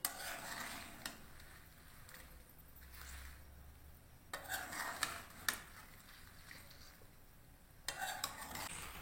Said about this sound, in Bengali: এই দেখুন, কুলের আচার ফুটতে শুরু করে দিয়েছে।